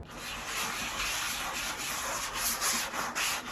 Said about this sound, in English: Wait 24 hours for it to harden and then sand with 1200 wet and dry.